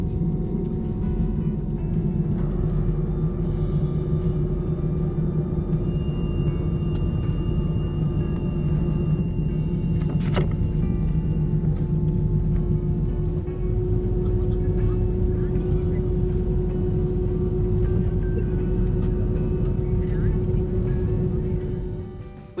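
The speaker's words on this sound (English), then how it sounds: "Now please enjoy this unedited takeoff." Airliner takeoff heard from inside the cabin, a heavy steady engine roar and deep rumble building and holding throughout, with a faint thump partway through.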